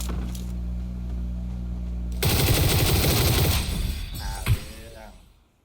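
Gunfire from an M200 rifle striking a car in the game PUBG: a burst of loud rapid shots and impacts that stops abruptly, followed by a single sharp crack and a fading tail.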